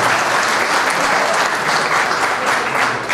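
A ceremony audience gives dense, steady applause to welcome a town mayor at a formal signing event; the clapping is loud, close and continuous throughout, with no talking over it.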